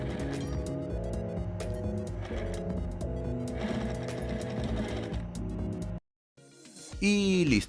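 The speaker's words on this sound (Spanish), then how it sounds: "Las doblamos a la mitad y las cosemos a ambos lados de la cartuchera." A sewing machine stitches folded webbing straps onto the sides of a denim pencil case, a steady rapid mechanical chatter close by for several seconds, then a short silence and a brief burst of louder noise at the end.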